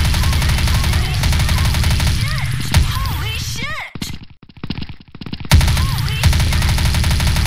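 Rapid bursts of MP5 WindRunner submachine gun fire in the shooter game Truy Kích, loud and close, with a short pause midway before shooting resumes, over game sounds and faint chatter.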